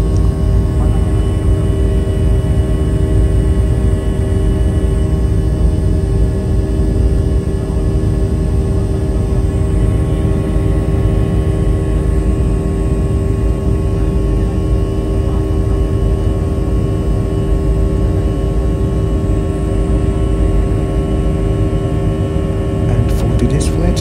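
Steady loud airliner cabin drone at cruise around 30,000 feet on a Gombe to Abuja flight, a constant broadband engine and air roar with low rumble running unbroken throughout.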